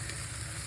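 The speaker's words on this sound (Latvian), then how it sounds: "Tagad vistiņi var turpināt cepties" Chicken frying in a pan for chili-lime tortillas gives a steady, dense sizzle that holds evenly through a brief moment with no voices.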